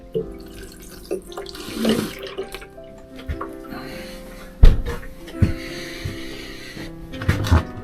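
Water runs from a tap in a greenhouse, splashing and trickling into a container with intermittent clunks and knocks, fairly quiet and close.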